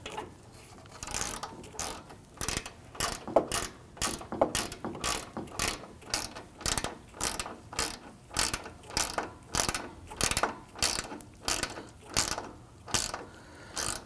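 Hand ratchet tightening the radiator mounting bolts on a 2010-2019 Ford Taurus, heard as a steady run of rhythmic clicking strokes, close and clear, with no talk.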